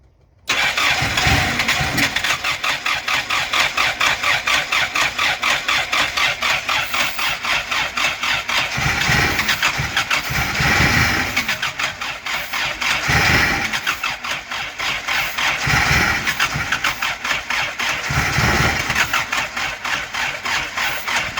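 A Mopar car engine cranks over and over on a dying battery, a loud, continuous rhythmic churn that sags and surges in waves without catching, close and alone.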